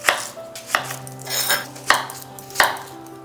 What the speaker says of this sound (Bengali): পেঁয়াজটার খোসা ছাড়িয়ে নিয়ে এইভাবে কেটে নিচ্ছি।